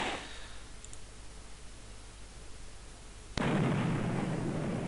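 Artillery firing in the video game Panzer General, a single sharp blast late in an otherwise quiet stretch, followed by a sustained roaring rumble.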